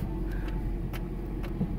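A Toyota Tacoma pickup creeps backward in four-wheel-drive low range, its engine a steady low rumble close by with a few faint ticks and knocks over it.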